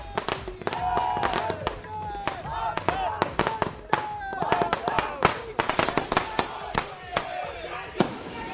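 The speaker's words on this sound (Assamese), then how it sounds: "কেজরিওয়ালের বাসগৃহর সন্মুখত ফটকা ফুটাই আনন্দ উল্লাস করেছে আম আদমির নেতাকর্মী সকলে" Firecrackers burst in front of a residence during a political celebration, a rapid, uneven string of sharp pops, loud and close, while people talk and shout underneath.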